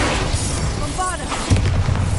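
A Bombarda blasting spell goes off in a Harry Potter video game, a short booming burst over game sound and speech-like voices.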